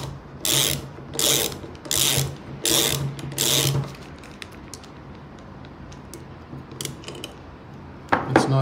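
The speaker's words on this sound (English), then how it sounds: "From here, we tighten up the center nut so it holds the pivot plate in place." A ratchet tightens the center nut on a paddle handle pivot plate, making five quick, close bursts of rapid clicking followed by scattered faint clicks and a final short burst.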